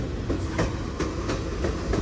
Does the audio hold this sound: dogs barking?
no